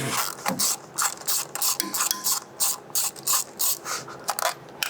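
A ratchet backs out 10mm bolts from the valve cover of a 100 Series Land Cruiser: quick, close, repeated bursts of sharp pawl clicking with short pauses between strokes, and no talking.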